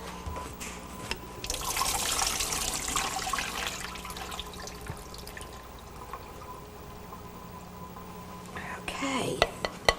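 Water from boiled potatoes drained in a home kitchen, a continuous rushing pour lasting several seconds and then fading, followed by a few clattering knocks as it ends.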